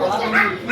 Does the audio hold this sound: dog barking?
yes